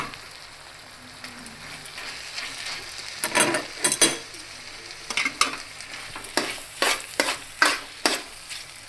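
Carrots sautéing over low heat in a pan for a Kathiyawadi-style bhaji, a soft steady sizzle with intermittent louder stirring scrapes and clatters, close up with no talking.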